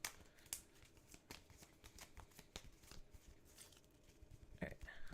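Trading cards from a deck of Digimon eggs are shuffled at a card game regional tournament, giving soft repeated riffling and flicking clicks throughout, close and quiet, with faint background chatter.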